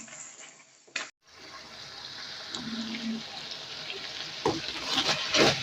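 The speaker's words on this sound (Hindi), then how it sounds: "दही शामिल करने के बाद अच्छी तरह से हम इसको भून लेते हैं" Minced meat with yogurt frying and being stirred in a karahi for a restaurant-style qeema karahi, a steady close sizzle with scraping, a brief gap near the start and louder stirring toward the end.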